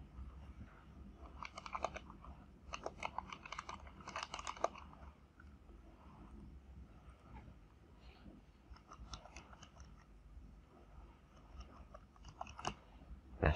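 Keys on a computer keyboard are tapped while entering data into a database table, faint scattered clicks in short bursts with pauses, close and quiet, no talking.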